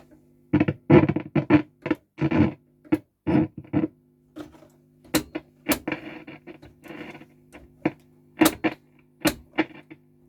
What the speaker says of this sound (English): Noisy switch.